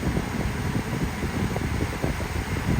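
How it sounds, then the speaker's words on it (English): The air conditioning fan in a Tesla driving to Pigeon Forge, Tennessee blows a steady, even rush of air that fills the cabin without a break, with no talking. "Air conditioning is going crazy because it goes to a low state."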